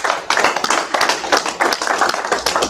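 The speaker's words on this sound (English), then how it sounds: "Give the guys another round of applause." Audience clapping for the speakers at a live evening gathering. A dense, close, fairly loud patter of hand claps runs steadily for a few seconds.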